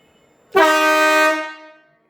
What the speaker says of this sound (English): Air horns on a Slingshot.